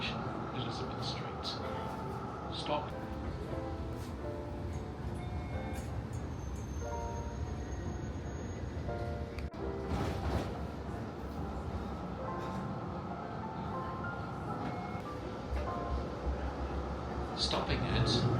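A Melbourne tram rolls along inside the passenger cabin with a steady rumble and mechanical hum, punctuated by occasional squeaks and thumps, while voices murmur faintly in the background.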